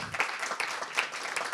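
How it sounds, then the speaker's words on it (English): Audience applause for three panel participants at a plenary development session, a short burst of soft, somewhat distant clapping from a crowd. "Let me give applause to our three participants."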